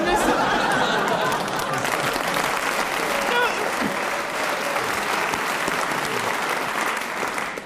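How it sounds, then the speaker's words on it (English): Studio audience applauding during a radio panel game, a sustained burst of clapping with some laughter and a voice mixed in. "I've never heard of anybody's infancy getting a round of applause before"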